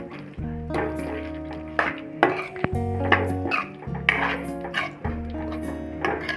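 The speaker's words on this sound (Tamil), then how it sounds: "இந்த மசாலா கூட இந்த சிக்கனை நல்லா மிக்ஸ் பண்ணிக்கலாம்." A spoon scrapes and clinks against a pan while cooked chicken is stirred into masala for an Andhra chicken ghee roast. Scattered metallic taps sound over steady background music.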